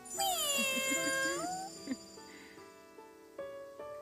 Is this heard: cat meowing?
yes